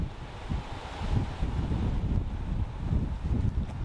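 Strong wind buffets the microphone at a coastal gun battery on the D-Day beaches, a steady low roaring rumble with gusty swells, no voices.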